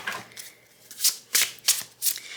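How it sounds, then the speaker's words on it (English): Tarot cards are shuffled in several quick riffling bursts, fairly quiet and close, with no voices. "Let me just give it a proper shuffle here."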